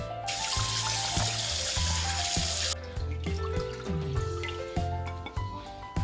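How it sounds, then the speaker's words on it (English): Radish and pork ribs rinsed under a running kitchen tap: a loud steady hiss of flowing water that cuts off halfway, then close splashing, dripping and handling of the wet pieces in a sink, with a background musical tone throughout. "I'm gonna go wash these."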